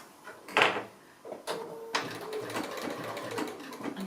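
A domestic sewing machine stitching applique slowly around curves: short intermittent runs of mechanical whirring and clicking, close up, separated by brief pauses and handling sounds.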